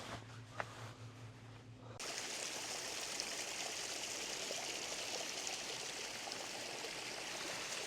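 Small stream flowing beside a road at Sun Moon Lake, a faint trickle that swells after two seconds into a steady close rush of running water.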